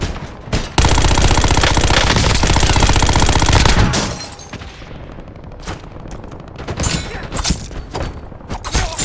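Sustained heavy automatic gunfire in the shooter game Warzone Resurgence, a loud continuous burst for several seconds, then scattered single shots and thuds at a lower level.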